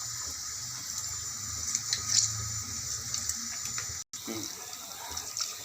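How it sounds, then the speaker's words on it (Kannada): Soaked tamarind juice poured into a pot for bisi bele bath, a steady trickling, splashing flow of liquid heard close up for several seconds with a brief break near the end. "ಹುಣಸೆಹಣ್ಣು ರಸ ಇಷ್ಟಪ್ಪ ನೆನೆಸಿಟ್ಕೊಂಡಿರೋದು ಹುಣಸೆಹಣ್ಣು ರಸ ಹಾಕ್ತಾಯಿದ್ದೀನಿ"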